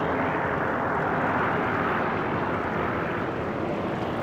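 A damaged plane's engine drones during landing in an air-combat video game, a loud, constant roaring hum with a broad, noisy texture that holds steady throughout, with no speech.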